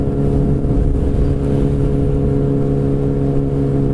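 On a track during a redneck racing weekend, a race car runs with a steady, loud engine whir that holds an even pitch throughout, close by and without voices.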